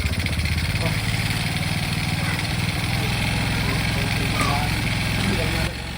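A Honda Wave 125 motorcycle runs steadily at idle after repairs to its wiring, ignition coil, CDI and carburetor fuel line, a loud, even mechanical drone that continues for several seconds before dropping slightly in level.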